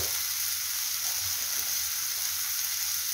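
Spices sizzle steadily in a hot pan while being stirred for an omena silver fish dish in Kenya, a soft, continuous hissing fry heard close and alone.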